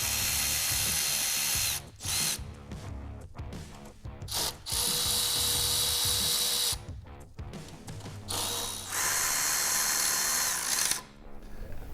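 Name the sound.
ratchet tools removing the swingarm brake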